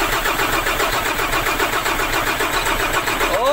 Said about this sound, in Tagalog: i-start na natin yan